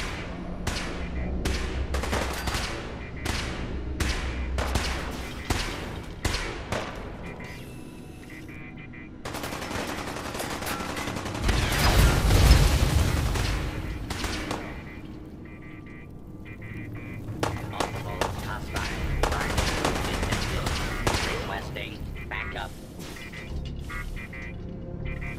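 Protectron robot in Fallout 4 firing at a hostile target: loud, rapid bursts of gunfire in repeated volleys over a droning game background, with a heavier low rumble midway.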